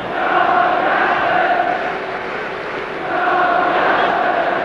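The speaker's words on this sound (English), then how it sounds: "now they're chanting Johnny Aston, Johnny Aston" Manchester United supporters, the Old Trafford faithful, at the 1968 European Cup final against Benfica chant 'Johnny Aston' in a loud, sustained roar from a massive stadium crowd that swells and dips slightly without letting up.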